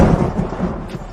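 Thunderstorm sound effect in a radio show intro, a short loud burst of rumbling thunder with a noisy rain-like wash, heard alone.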